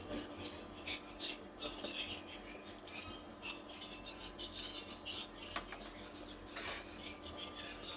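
A fork or spoon beats egg in a bowl, making faint, irregular clinks and taps of metal on the dish. The sounds are quiet and close, with soft voices in the background.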